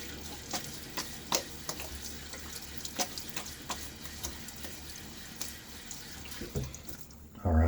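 A tap runs for a rinse during a shave with a Gillette Nacet blade, a soft steady splash and trickle with scattered clicks and drips, fairly faint and close.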